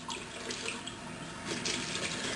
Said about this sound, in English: I just washed my hands